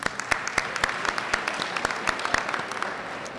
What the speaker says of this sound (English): round of applause for her as well, please.